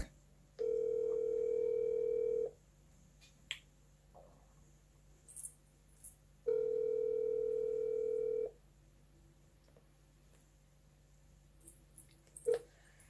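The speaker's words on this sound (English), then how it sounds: "I'm gonna call him back." A telephone line sounds two long, steady ringing tones while calling someone back, each lasting about two seconds and separated by a few seconds of near silence with faint small noises.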